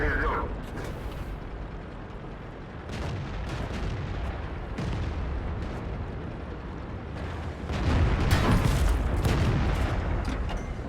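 Tank cannon fire in a World of Tanks-style battle from a T-34-85 Rudy, a tier 6 Soviet premium medium tank, with heavy booming shots and rumbling battle noise, loudest near the end, under ongoing talk.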